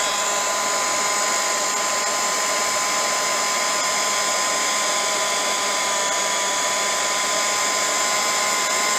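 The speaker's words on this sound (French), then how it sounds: "Maintenant, la patine, je ne l'ai jamais séchée au heat gun." A heat gun blows steadily and loudly at close range to dry patina on a craft piece, a constant high whooshing whine with no breaks from start to finish.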